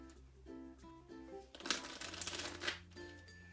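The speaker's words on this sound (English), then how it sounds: "we'll give it a proper shuffle like this" A deck of playing cards is riffled and shuffled during a card trick, crisp fluttering bursts of card flicks following a quieter musical background.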